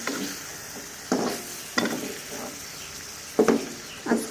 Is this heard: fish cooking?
yes